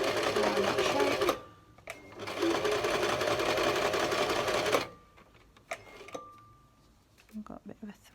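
A sewing machine stitches fabric for an upcycled sock monkey in two steady whirring runs, then stops and starts in short bursts, while a person talks.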